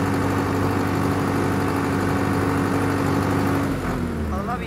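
A Preet 6049 Super four-cylinder tractor engine holds a steady 1500 rpm in second low gear, a loud continuous diesel drone with a constant hum and a slight dip in pitch near the end.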